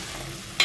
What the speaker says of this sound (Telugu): ఇవాళ ఇందులో వేసుకున్నాం కదా కాకరకాయ ముక్కని ఒకసారి కలుపుకోవాలి